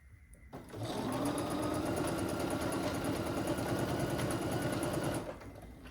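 A sewing machine stitches a Moon Cake quilt block, starting after a short pause and running in one steady, loud, buzzing burst for about four seconds before slowing to a stop.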